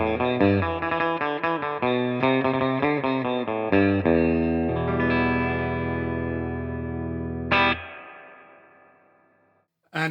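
An electric guitar through a Peavey Classic 20 combo with external reverb plays a quick run of picked notes, then a sustained chord rings out with a lush, spacious tail and one final accent fading away.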